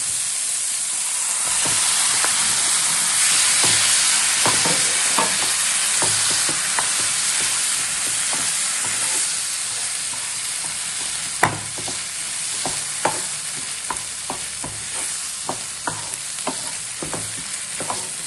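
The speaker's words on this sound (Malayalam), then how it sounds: "ഇനി നമ്മൾ എടുത്ത് വെച്ചിരിക്കുന്ന ചിക്കൻ ഇതിലേക്ക് ചേർത്ത് കൊടുക്കാം" Chicken stir-fries in a hot pan for a Malabar chatti porotta, with a steady loud sizzle and hiss under repeated spatula scrapes and knocks that grow sharper and more distinct toward the end; no talking.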